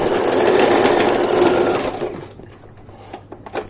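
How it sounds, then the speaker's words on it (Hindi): Domestic sewing machine stitching the seam of a pant-cut palazzo trouser, a loud steady whirring run for about two seconds that stops, leaving faint handling noises of fabric. "पहले खुले वाले हिस्से को सिल देती हूँ"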